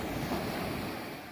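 Early-morning surf on the beach at Velankanni makes a brief, steady wash of waves with wind noise on the microphone.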